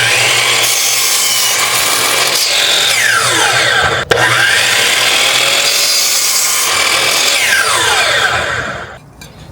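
A power saw cuts steadily through deck boards, a loud continuous rasping whine with a brief dip partway through before the blade winds down at the end.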